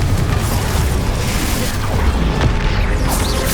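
Confringo explosion spell going off in Hogwarts Legacy, a loud, dense booming blast with a rumbling crash that sustains throughout and ends in a brighter burst.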